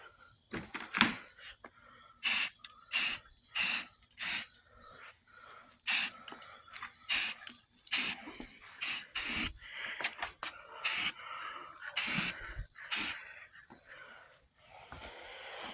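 Aerosol spray paint laid in a light coat onto car parts for a 2000 Lincoln Town Car: a long series of short, close hissing bursts in a steady stop-start rhythm, with no talk.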